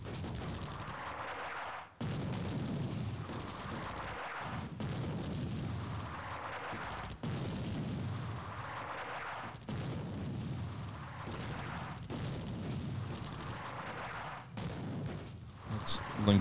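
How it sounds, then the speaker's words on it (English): Artillery fire in the WWII strategy game Attack At Dawn: North Africa, repeated heavy booms every couple of seconds rolling into rumbling blasts, with someone talking over the shelling. "They're also being shot at by artillery."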